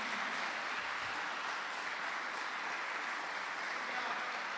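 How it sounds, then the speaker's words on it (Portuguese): A church congregation applauds during a sermon, a soft, steady wash of many hands clapping at a distance, faint and continuous throughout. "Você pode aplaudir ao Senhor Jesus?"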